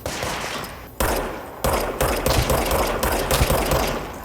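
Gunfire in the video game Control, bursts of rapid shots in a dense rattling fusillade, loud and close, with several sharp attacks and brief pauses between volleys.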